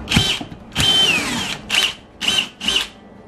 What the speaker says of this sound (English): Do you need the bigger drill bit?